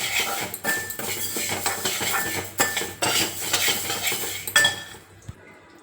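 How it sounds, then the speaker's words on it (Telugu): Skinned black gram lentils are dry roasted in a pan while a spatula stirs them. A steady, close scraping rattle of grains against metal with several louder strokes fades out at the end, with no voices. "దీన్ని డ్రై రోస్ట్ చేసుకోవాలి"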